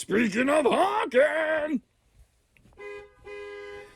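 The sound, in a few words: horn of a 2023 Jayco Greyhawk 30Z motorhome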